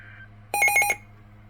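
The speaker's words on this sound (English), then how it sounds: "My phone alerted me sooner." A phone's emergency alert tone for a severe weather warning, sounding as one short, loud burst of pulsing beeps that lasts under half a second.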